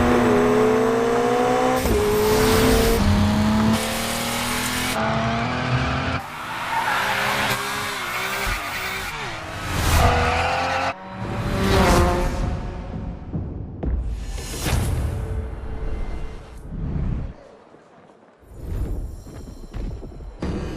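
A BMW races in The Crew Motorfest, its engine revving up and down through gear changes with occasional tire squeal, loud and close, shifting as the car accelerates and brakes.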